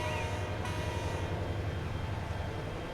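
Trains pulling into a station in the Transport Fever 2 game, a steady low rumble of rolling stock with a brief high tone near the start, continuous and moderately close with no talking.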